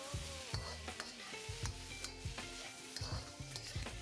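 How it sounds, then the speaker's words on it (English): Catfish sizzling in a wok over high heat, a continuous close sizzle with regular clinks and scrapes of a utensil against the wok in a steady rhythm, no voices. "Now this catfish is gonna simmer in our wok on a high heat for about a minute, minute and a half"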